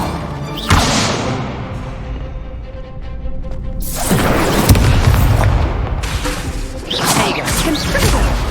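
Confringo fire spells in Hogwarts Legacy crack out as loud whooshing blasts: a sharp hit early on, then a big roaring burst midway and more whipping impacts near the end, all dense and close.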